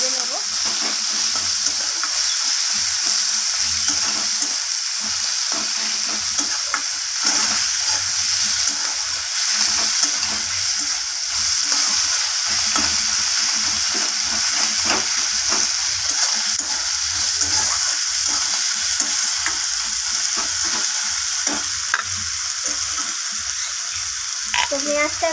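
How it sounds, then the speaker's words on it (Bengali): Chopped onions fry in a pan, cooked for a potato and chicken feet dish, making a constant bright sizzling hiss with occasional light stirring scrapes, close and steady throughout. "পেঁয়াজটা একটু বাদামি রং ধরা পর্যন্ত আমি পেঁয়াজটাকে ভেজে নেব"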